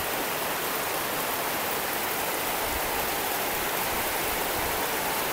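Heavy rain pours down in a dense, steady hiss with no breaks, a constant wash of sound and no voices.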